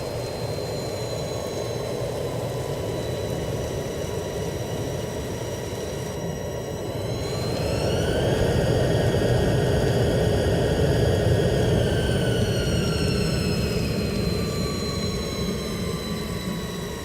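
Airliner jet engines drone steadily in a flight simulator game while taxiing, a loud continuous rumble with whining tones that rise and bend as the thrust shifts midway, with no talk.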